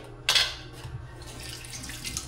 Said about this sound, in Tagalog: Dami ko pang hugasin dito sa lababo.